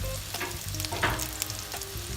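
Aladi fritters fry in a covered pan over low heat, making a soft, steady close sizzle with occasional light crackles and a brief clink near the middle.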